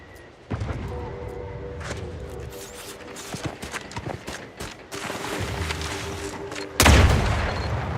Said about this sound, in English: So why can't I silence my rocket pistol?